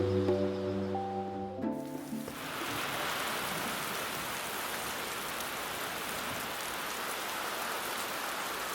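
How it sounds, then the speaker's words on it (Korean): After a few fading musical notes, a steady hiss of morning rain falling fills the air in a rural area of Yeongdong, Chungbuk, Korea, even and continuous. "빗소리가 깨우는 아침."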